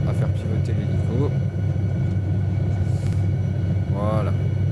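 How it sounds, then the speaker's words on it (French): Helicopter engine drones in Microsoft Flight Simulator 2020 near the Tignes dam, a continuous low rumble and hum running steadily under someone talking throughout. "on a du mal à faire pivoter l'hélico"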